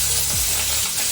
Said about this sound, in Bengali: মাছগুলো ভাজার জন্য কড়াইতে তেল দিয়ে দিয়েছি। এখন আমি মাছগুলোকে ভেজে নেব।